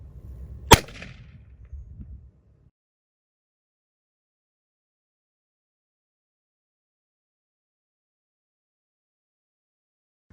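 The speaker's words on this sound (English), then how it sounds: "see what a double tap looks like for power on some ballistics gel" An AEA air-powered shotgun fires a double shot into ballistics gel: one sharp, loud crack with a short rumble after it, followed by silence.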